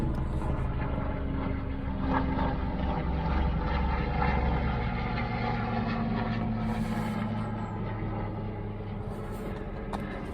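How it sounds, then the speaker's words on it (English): A steady, droning engine rumble fills the air as a helicopter passes overhead, loud and continuous with no voices. "I thought I'd be quiet while the helicopter went over."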